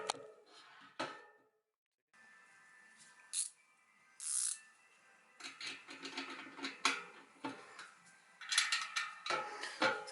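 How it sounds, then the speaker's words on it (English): A spanner tightens the top and bottom nuts on a Shimano FH-M678 freehub bearing tool, giving sparse metallic clicks and rattles with quiet gaps between them. "I've got a spanner on the bottom, we're just gonna tighten that into place"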